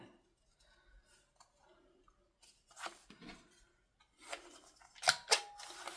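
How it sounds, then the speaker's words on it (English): Scissors snip around the corners of thin copy-weight paper at a crafting table, quiet at first, then a few sharp, close cuts and crisp rustles toward the end. "let's go ahead and round these corners"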